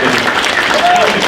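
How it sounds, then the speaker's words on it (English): Applause from the audience at a gun-industry Q&A panel at the NRA 2016 convention, a steady dense wash of clapping lasting about a second and a half, with a faint voice briefly audible over it. "Clap it up"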